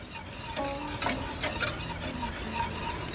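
A spice mix with coarsely ground black pepper for country-style ribs is stirred up, heard as several short, close scraping and clinking strokes over low background hiss, with no talk.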